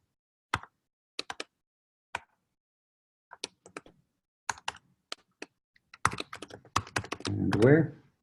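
Computer keyboard keys tapped in short irregular bursts with quiet gaps between, then a quicker run of clicks and a brief muffled voice near the end.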